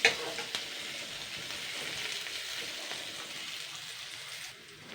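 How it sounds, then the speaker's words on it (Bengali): Onion frying in a pan as fish oil goes in for a taro leaf (kochu shak) dish, giving a continuous soft hiss and sizzle, fairly quiet and steady, fading slightly at the end. "পেঁয়াজটা ভাজা হয়ে গেছে, এবার আমি মাছের তেলটা দিয়ে দিচ্ছি"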